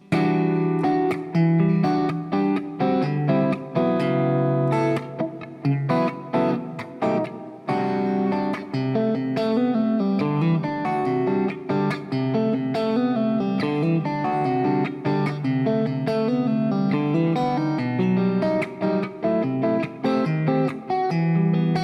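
Percussive fingerstyle acoustic guitar: dense strummed and plucked chords mixed with rhythmic slaps on the body, played continuously and loud for the whole stretch with no talking.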